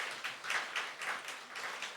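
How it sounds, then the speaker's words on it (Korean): Congregation in a church clapping for elderly members, a rhythmic, unison hand-clapping pattern of regular beats, moderately quiet and heard alone. "박수 한 번 해주시죠"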